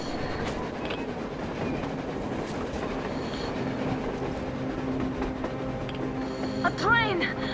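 A train passes on the surface in the Metro Exodus video game, a steady rumbling rail roar with clickety-clack and a rising wheel squeal near the end, loud and close beneath game ambience.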